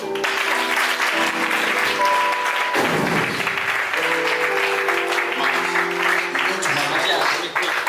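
A church congregation claps and applauds continuously and loudly for Jesus at a French-English prophetic service, with voices and tonal sounds mixed in under the steady clapping.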